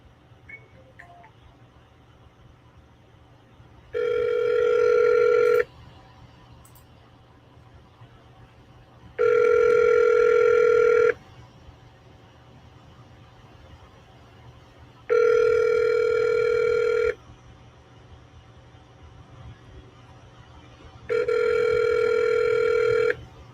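A phone redialing a seller, with four evenly spaced steady call tones, each about two seconds long, separated by quiet line hiss. Loud and close, with no speech.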